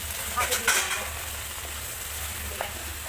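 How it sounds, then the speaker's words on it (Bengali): Sour yogurt and spices fry in a pan with pomfret fish over low heat, a steady close sizzle with a low stove hum and a few scraping stirs, no talking. "তারপর তিন চামচ মতো টক দই দিয়ে দিতে হবে এবার খুব ভালো করে কষিয়ে নিতে হবে"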